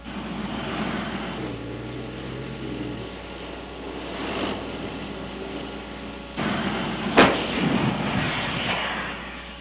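A Swedish Stridsvagn 103 S-tank rumbles as it comes to a halt, then its main gun fires a single sharp, loud blast over the engine noise.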